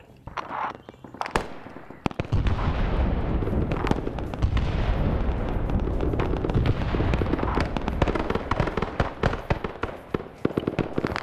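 Dense, continuous gunfire and repeated explosions rumble through an Arma SOG Vietnam War battle at the Khe Sanh airfield, a sustained roar of booms and rapid shots with sharp cracks layered on top, loud throughout.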